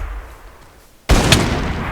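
After a second of quiet hum, a sudden loud burst of gunfire in modded Minecraft erupts and keeps rattling on in a dense, sustained barrage.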